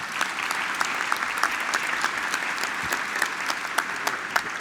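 Panel audience at an OAB constitutional court event applauds, with dense continuous clapping and a few sharper individual claps standing out close by.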